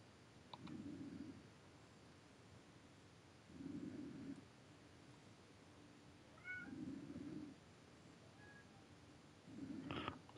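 A pet cat meows repeatedly at a steady pace, four drawn-out calls spaced a few seconds apart, fairly close in a quiet room with faint clicks between.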